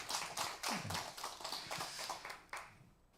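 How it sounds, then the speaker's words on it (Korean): A church congregation gives a brief round of clapping to welcome visitors, with a scattered, uneven patter of hand claps, soft and somewhat distant, thinning out toward the end. "박수 한번 쳐주시기 바랍니다."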